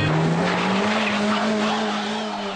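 Fiat Panda 4x4 straining up a steep off-road incline, engine whining at a steady pitch with a harsh, noisy rush over it, loud and close throughout.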